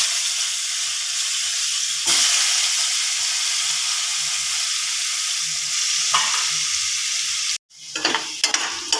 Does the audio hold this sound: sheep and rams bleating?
no